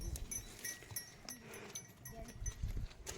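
Mountain herd of goats and sheep heading out to forage, with scattered bleats, bell clinks and shuffling nearby, fairly faint and busy, with a voice speaking briefly among them.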